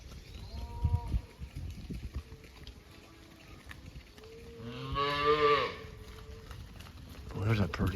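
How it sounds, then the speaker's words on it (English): A cattle herd of cows and young calves on a farm drive, with several moos near and far, one long loud bellow in the middle and another at the end, while someone talks at times. "there's a pretty heifer"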